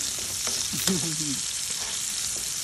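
Onions sauté in a pan at the start of a mung bean and shrimp dish, with a constant, even sizzle close up and a brief faint squeaky tone partway through.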